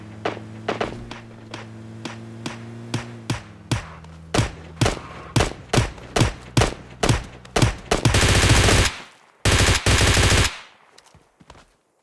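Rapid gunfire in a video game with a Kar98 bolt-action rifle nearby: a string of sharp shots speeding up into close bursts, then two loud sustained blasts of fire and a few trailing thuds.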